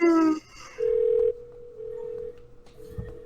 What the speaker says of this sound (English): I think we're hearing a caller coming in.